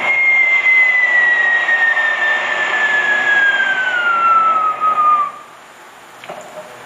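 A man imitates an airplane with his voice, holding a loud, sustained whistling tone that slowly glides downward for about five seconds before cutting off, followed by quiet.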